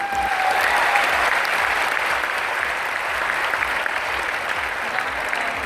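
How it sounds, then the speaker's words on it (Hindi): An audience at a direct selling business talk gives a sustained round of applause, dense steady clapping that holds at an even level throughout. "सो शानदार बिजनेस के लिए एक जोरदार तालियां होनी चाहिए।"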